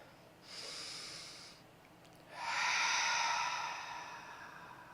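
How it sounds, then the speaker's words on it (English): A slow, deep centering breath taken close to the microphone during a guided healing meditation: a soft airy inhale, a brief pause, then a longer, fuller exhale that gradually fades. "I'm going to take a nice centering deep breath first"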